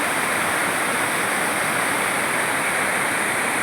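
Water pours and splashes into a bathing tank at a Kaumari Amman temple in Veerapandi, a loud, continuous rush that fills the space with a steady roar.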